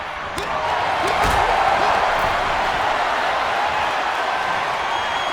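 A wrestler slams down hard onto the ring in a crowded arena during an Elimination Chamber match, one loud thud landing early and then a roaring crowd noise that holds steady throughout.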